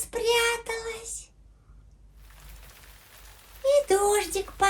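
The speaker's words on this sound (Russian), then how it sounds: "И дождик пошел." A soft, steady patter of rain plays in a home puppet-theatre game, faint and hissing between stretches of children's and an adult's talking.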